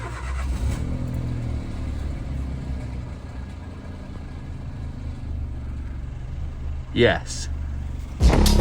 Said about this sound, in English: now we can start it up to circulate the oil and fill the filter up